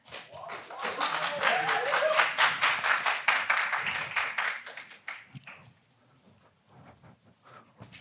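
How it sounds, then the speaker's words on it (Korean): Audience applause at a public-sector HRD contest in a lecture hall, a burst of brisk clapping that builds and holds for several seconds, then thins out into scattered claps and fades. "큰 박수 부탁드립니다."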